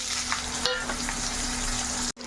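Potatoes frying in hot oil with cumin and bay leaf, a soft, steady sizzle with a few stirring clinks, close and fairly quiet, ending in a brief cut.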